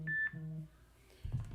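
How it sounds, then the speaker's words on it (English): A short electronic beep sounds, a clear high tone, followed by a low rumble of handling noise. "Beep."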